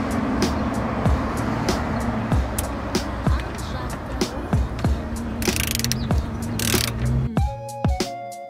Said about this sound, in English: grab your bolts again. And you're just gonna go ahead and tighten it up.